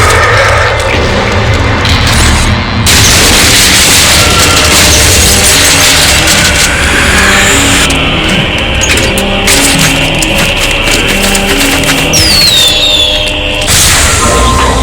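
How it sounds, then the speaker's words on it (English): Fireworks burst in the video game Shadows of the Damned, a loud, dense run of booming blasts and crackling pops over a constant dark musical score that continues throughout. "Fireworks! We could use these to chase away the darkness"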